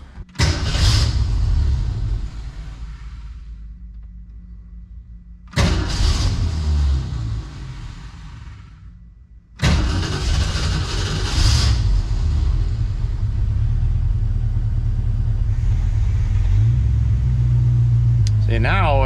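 A 1966 Ford Mustang engine fitted with Sniper EFI cranks and catches, then settles into a loud, close, rumbling idle. It cuts out and restarts twice, with a fluctuating idle and a voice speaking over the running engine.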